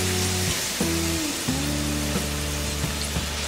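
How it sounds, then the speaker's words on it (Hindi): French fries frying in hot oil over a medium flame, a steady dense sizzle and crackle running throughout, close and loud, with a low background hum underneath. "हमने इसे 10 मिनट तक मीडियम फ्लेम में फ्राई किया है।"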